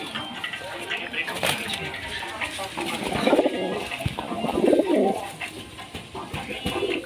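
A pure local Indian pigeon of powder colour coos nearby in a pigeon loft, deep throaty rolling coos rising and falling several times over rustling and background noise.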